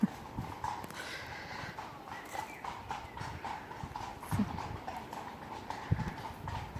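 Horses walk nearby in the countryside, their hooves clip-clopping in an irregular rhythm with a few sharper knocks, at moderate volume against a quiet outdoor background, with no talking.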